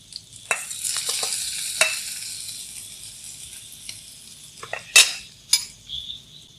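Seasoning is stirred into coconut in a hot pan, giving a soft, continuous sizzle. A spoon scrapes and clinks against the pan several times, and a couple of sharper metallic knocks come near the end. Close up, with no talking.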